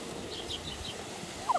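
A quick, bubbling turkey gobble near the end, rising out of faint background noise after a quiet stretch, at a summer country house.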